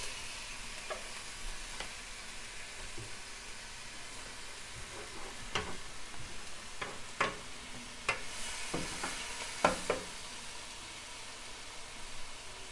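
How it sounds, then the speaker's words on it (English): A burger patty, just flipped, sizzles in a hot pan with continuous crackling spatter and intermittent sharp pops, close and moderately loud. "So I'm going to flip this burger."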